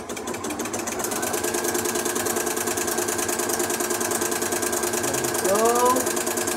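A Janome Flower Stitcher sewing machine stitches a shell tuck with a rapid, steady mechanical chatter throughout, close and even, and a short rising whine near the end.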